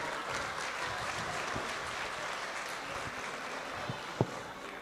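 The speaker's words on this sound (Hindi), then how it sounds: "भाई तालियां तो बजाओ इस गजल पे।" Faint, even clapping from the audience at a mushaira in Muscat, applauding an Urdu ghazal, a soft continuous patter with a couple of sharper knocks near the end.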